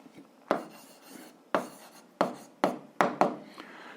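A pen writes an answer on paper for a seventh-grade algebra exercise on systems of linear equations, making six sharp scratchy strokes at uneven intervals, each quickly fading, close and clear with no talk.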